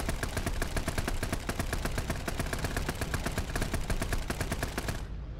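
Rapid sustained bursts of coaxial machine gun fire from an M48 Patton tank in a Vietnam-era video game, loud and close, a steady rattling stream that cuts off sharply just before the end.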